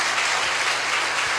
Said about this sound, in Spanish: Y el pueblo te brinda un fuerte, pero fuerte aplauso en esta mañana.